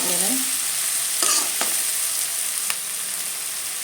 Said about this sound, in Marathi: कांदा थोडा परतून घ्यायचा आहे